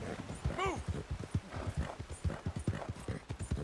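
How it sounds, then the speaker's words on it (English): Horse hooves clip-clop at a steady walking rhythm in Red Dead Redemption 2, with a brief whinny early on. The hoofbeats are close and distinct over a soft background. "I'm gonna run this horse."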